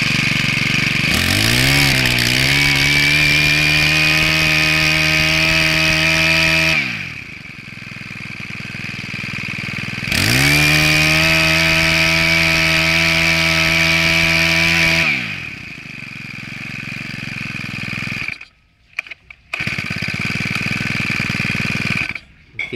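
A used Japanese two-stroke grass cutter engine (Shindaiwa or Maru type) revs twice to a loud, high buzzing whine for several seconds each, dropping to idle between, then sputters and cuts out with scattered clunks.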